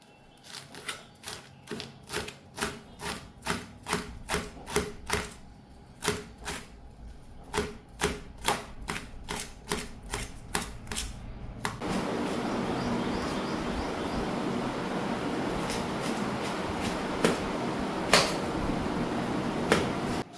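Tagate (Cassia tora) leaves being finely chopped with a knife on a board, a steady run of sharp close taps, then faster, denser cutting under a continuous background hiss with a few louder knocks.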